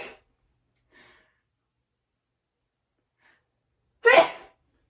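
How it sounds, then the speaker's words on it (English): A single sharp human sneeze bursts out near the end, loud and close, preceded by a faint breath in an otherwise quiet room. "sorry about sneezing"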